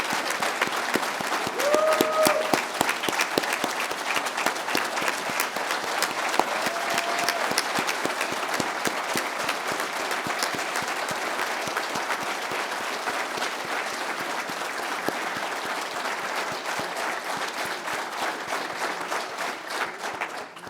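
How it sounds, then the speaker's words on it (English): At a charity breakfast against DIPG, a roomful of people applauds fighters and their families in a long, sustained ovation, crisp individual claps ringing through the steady crowd clapping, with a few brief cheers near the start. "give a round of applause to all of our fighters and fighter families who are here with us today"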